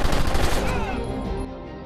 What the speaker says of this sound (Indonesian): Tiba-tiba musuh kembali datang hingga menembak Smoke